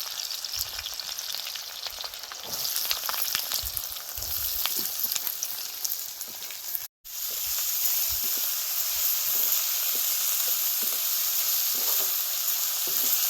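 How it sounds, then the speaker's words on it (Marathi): Onion frying with green chillies and curry leaves in a pan, a continuous loud sizzle with crackling bursts, broken by one brief silence before the steady hiss resumes. "आता आपण कांदा ते सगळं टाकून घेतलंय आता आपण इथे हालून घेऊ चांगला लालसर भाजून घ्यायचा"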